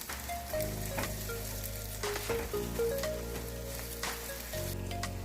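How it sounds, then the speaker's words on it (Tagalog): Fried pork chops sizzle in a pan with caramelized onions, a steady crackling hiss close by, broken by clinks and stirring scrapes as pieces are placed. "After mag-caramelize ng mga onion, isa-isa ko na ulit nilagay yung mga napritong pork chop."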